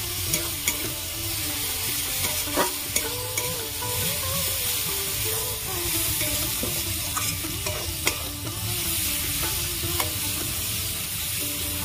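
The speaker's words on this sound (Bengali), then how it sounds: "রসুন দিয়ে আমি ভালো করে ভেজে নিয়েছি।" Garlic paste fries with chili powder in hot oil, making a continuous bright sizzle broken by frequent stirring scrapes and clicks of a utensil against the pan, close up and with no talk.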